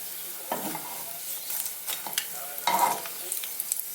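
Plantains frying in oil until golden brown, with a bright, continuous sizzle broken by a few scraping stirs and clinks as the pieces are moved in the pan.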